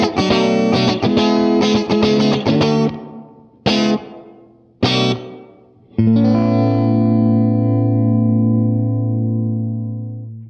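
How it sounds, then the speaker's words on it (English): An electric guitar plays strummed chords through a reverb pedal set to a subtle room reverb, giving a light ambient tail. Stabs and short gaps lead to a final ringing chord that sustains and slowly fades, loud and close. "Here is a subtle room reverb good for rhythms and parts that just need a light ambient touch."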